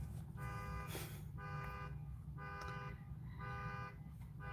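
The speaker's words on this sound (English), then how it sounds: "Only when I started doing your reading did this start happening with the car alarm." A car alarm sounds in a park in repeated pulsing bursts of tones, about four cycles with short gaps between them. It is heard at a moderate distance over steady outdoor background noise.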